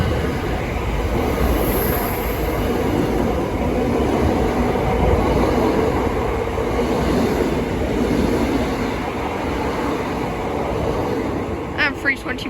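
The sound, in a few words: Greater Anglia train passing through Bethnal Green station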